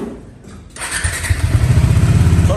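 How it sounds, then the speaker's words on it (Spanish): A Bajaj Pulsar NS200 motorcycle engine cranks briefly then catches and settles into a loud, throbbing idle, close by. "la prendemos la moto una vez"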